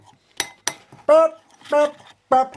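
Metal utensil clinks against a bowl while chicken wing sauce is stirred, with two sharp clicks early and voiced, hum-like tones recurring between them, close and moderately loud.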